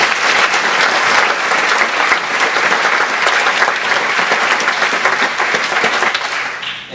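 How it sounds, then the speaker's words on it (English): Audience applause at a live presentation, a loud, sustained roar of many hands clapping that stays even for several seconds before tapering off at the end. "So please give him a round of applause."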